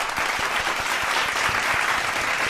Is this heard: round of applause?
yes